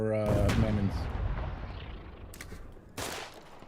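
Artillery shells pound a base in the video game Foxhole, with a heavy blast at the start followed by a long rumbling decay and another sharp impact near the end, loud and booming.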